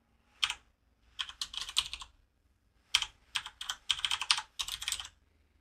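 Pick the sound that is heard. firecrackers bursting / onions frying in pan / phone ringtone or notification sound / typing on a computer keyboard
typing on a computer keyboard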